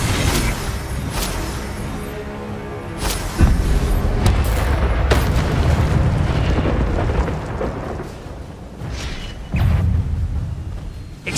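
Repeated spell blasts in Hogwarts Legacy, including the Incendio fire spell, come as several sharp whooshing bursts and booms over a dense rumbling, crackling battle din, loud and close throughout.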